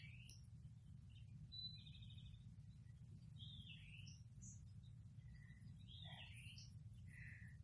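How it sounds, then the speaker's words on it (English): Birds chirp faintly outdoors while someone sits outside in a cool breeze, with scattered, brief high calls over a steady low rumble of wind and ambient noise. "Birds chirping."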